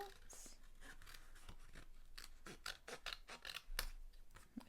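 Scissors snipping through pieces of wool for a Christmas craft, a quick run of close, crisp cuts and rustling handling sounds, fairly quiet, with no talking.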